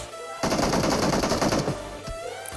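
A SCAR-L rifle in a battle royale video game fires one rapid, loud automatic burst of about a second and a half, alone and up close, with brief quiet before and after.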